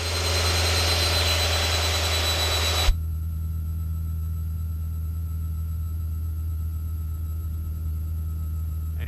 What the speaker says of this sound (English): Today you got a lot of good engine power because of the temperature